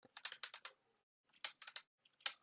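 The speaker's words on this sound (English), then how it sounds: "I can't type now." Close, quiet typing on a computer keyboard in three short bursts of rapid key clicks separated by brief pauses, with no voices.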